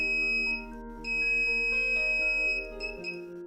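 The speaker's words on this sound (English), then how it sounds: "buzzer is giving a high sound" A steady, piercing high-pitched electronic buzzer tone sounds continuously, with a low hum beneath it that cuts out near the end.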